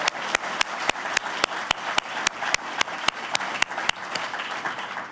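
Audience applause for Senator Joni Ernst at a Senate campaign launch event, a steady wash of many hands clapping with a few sharp, loud claps standing out at a regular beat, no talk over it.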